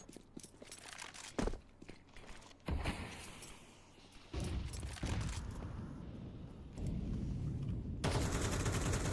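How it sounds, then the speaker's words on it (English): MP9 submachine gun fire during a Counter-Strike match, with sharp bursts and scattered shots early on followed by a longer stretch of sustained rapid firing and rumbling game ambience, loud and without talk. "The MP9s mow them down as the Ts walk in one by one"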